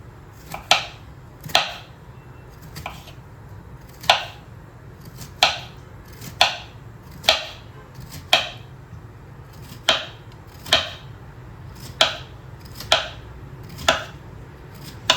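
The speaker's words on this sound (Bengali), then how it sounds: "উচ্ছেটা কেটে নিই" Bitter gourd being cut with a knife on a board, evenly spaced crisp chops landing roughly once per second, close and clear over a quiet room hum.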